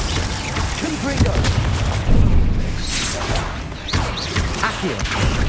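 Confringo blasting spell cast in Hogwarts Legacy, a loud booming, crackling burst of fiery impacts and whooshes that repeats over a dense backdrop of game effects, with a voice talking over it.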